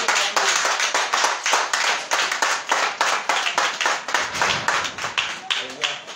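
A church congregation applauding to acclaim the Holy Spirit: dense, rhythmic group clapping that keeps a quick steady beat, loud and close throughout, with voices faintly underneath.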